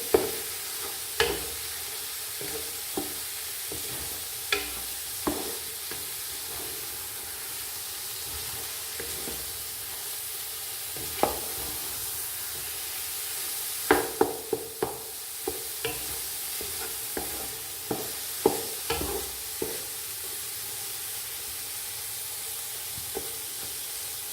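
Carrot halwa roasts in a pan with a soft, continuous sizzle and hiss, broken by sporadic scrapes and knocks of a spoon stirring it, close by and without any talking.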